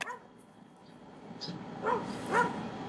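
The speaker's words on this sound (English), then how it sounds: "The neighbor dog's barking at him" A neighbor's dog barks and yips from across a fence outdoors, two short clear barks spaced about half a second apart over a steady background hum, moderately distant.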